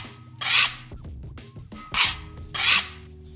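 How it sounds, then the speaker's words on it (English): Gelled hair is slicked and scraped up into a bun: three loud, close rasping brush strokes in an uneven rhythm, with quieter rubbing between them and no talk. "I'm just slicking my hair up"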